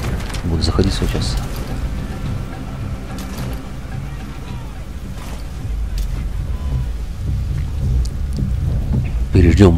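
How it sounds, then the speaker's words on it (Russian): Stormy weather in Metal Gear Solid V: The Phantom Pain, a steady low rumble of wind and rain with a heavy thunder-like swell near the end, running throughout under faint talk. "Переждем бурю."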